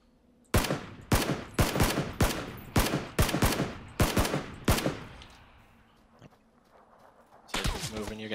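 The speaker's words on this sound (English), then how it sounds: "And he's shooting at you." Gunfire in a video game: about ten loud, close shots in a steady rhythm over five seconds, a pause with faint rumble, then a rapid automatic burst at the end.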